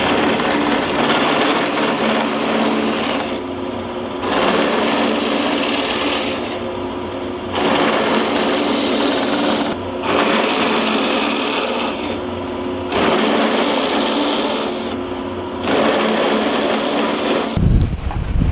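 A power tool cutting wooden plugs out of a board for a simple bench, droning in five long loud bursts separated by short pauses, heard alone without talk.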